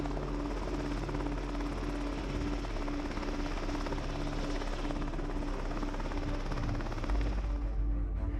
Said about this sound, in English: so the chopper can fly them off safely